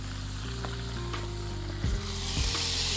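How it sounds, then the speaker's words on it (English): Elk steak fries in a pan of melted butter, giving a steady close sizzle with crackling spatter and a couple of louder bursts as the meat is moved, with no talk. "we're keeping that sizzle, but we want the butter on there"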